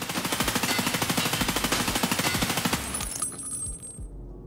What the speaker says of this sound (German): wir fangen einmal mit einem 40er Magazin 855A1 aus der Hocke von der Full-Recoil M4